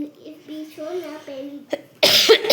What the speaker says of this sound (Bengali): সরি আমার একটু কাশি হয়েছে ভীষণভাবে